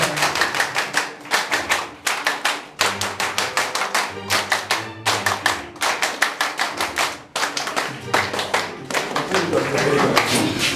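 Loud, sustained clapping from an audience at the inauguration of a company headquarters, with dense bursts of applause that swell and dip repeatedly, a voice speaking over it and music running beneath.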